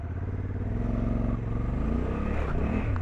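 Honda Africa Twin motorcycle accelerating with full traction control, a close, loud engine drone that rises steadily in pitch as it pulls away, running continuously.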